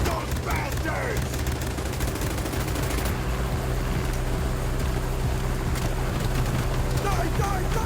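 Dense gunfire in the open-world shooter Garena Free City: continuous loud volleys of shots layered over a steady engine drone, with bursts overlapping throughout and occasional sharper cracks.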